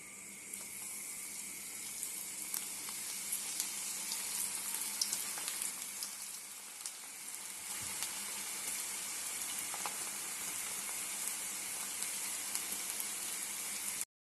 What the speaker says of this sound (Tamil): எண்ணெய் காஞ்சிருச்சு. இப்போ நம்ம பக்கோடாவை போடுவோம்.